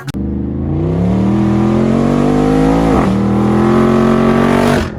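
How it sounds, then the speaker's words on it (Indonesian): Loud, close engine revving effect from a toy Jeep car, a sustained rising and falling motor whine with one dip midway before cutting off, alone without talk. "Wow, ternyata ini adalah mobil Jeep."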